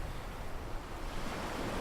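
Ocean waves wash steadily onto the rocky shore near Elliston, Newfoundland, a continuous broad roar mixed with wind noise on the microphone, with no voices.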